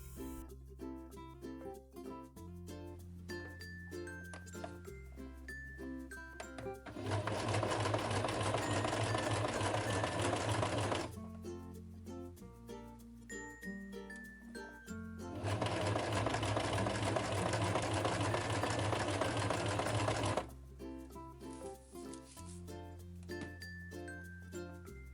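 A sewing machine stitches a pinned blouse seam in two sustained bursts of rapid whirring, each lasting several seconds, with light plucked music playing underneath and between them.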